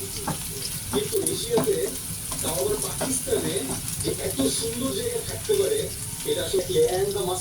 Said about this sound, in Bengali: তো পেঁয়াজটা আমার হয়ে আসছে, ভালোভাবে ভাজা দিয়ে পরে শাকটা দিয়ে দেবো।